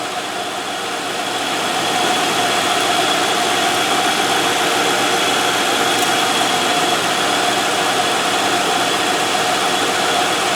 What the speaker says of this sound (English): while the car is running